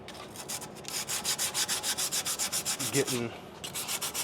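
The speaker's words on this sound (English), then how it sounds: "So let's go get a piece of sandpaper." Sandpaper scrubs back and forth over a brake rotor surface in a fast, even rhythm of gritty rasping strokes, close and steady, pausing briefly before resuming.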